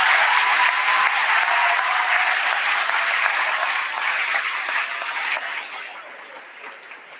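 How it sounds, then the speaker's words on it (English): Loud, dense applause from the audience at an eighth-grade junior high graduation ceremony, steady and full at first, then gradually thinning and fading toward the end. "please give a huge round of applause to this graduating class"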